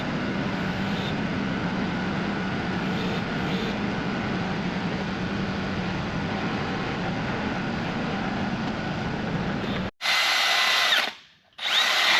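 A power drill drilling holes while installing a boom on an offroad wrecker runs steadily at a high whine for about ten seconds, then cuts out, followed by a couple of short, louder bursts of drilling.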